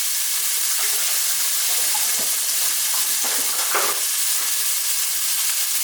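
A steak searing in a hot pan gives a loud, continuous sizzle and hiss that stays steady from start to finish, close up and with no talking.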